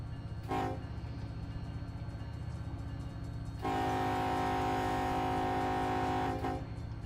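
Train horn in a train simulator video game: a short blast, then a long, loud, steady honk of about three seconds over a constant low rumble.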